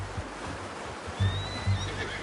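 A horse whinnies in Red Dead Redemption 2, a mid-distance call heard alone against steady outdoor ambience, followed by soft low snorts or hoof thuds.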